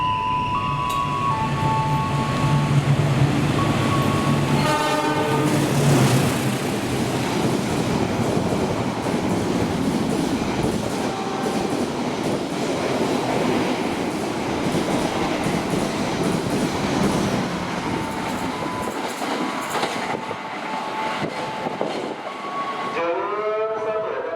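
The Indonesian passenger train Kertajaya rolls past close by, a loud continuous rumble with rhythmic clattering of wheels over rail joints, and brief horn-like tones near the start and end.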